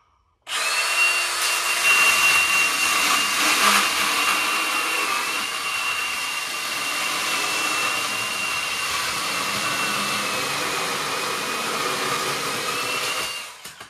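A Milwaukee M18 top handle battery chainsaw cuts through wood, a loud, close, continuous high motor whine held steadily under load for over ten seconds before stopping abruptly.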